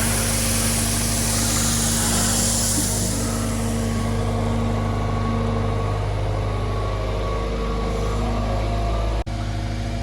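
Vehicle engine idling and running steadily nearby as gravel is hauled behind trees for a DIY natural swimming pool build, a continuous low rumble with no talk.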